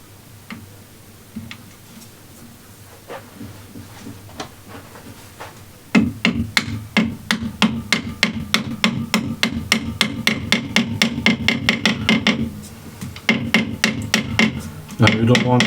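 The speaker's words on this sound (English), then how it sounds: "Just pound it until you hear the note change." Steady series of sharp wooden knocks, pounding a thick CA-glued wooden bowl to align the grain, starting after a quieter stretch and running in a fast, even rhythm with a brief pause near the end.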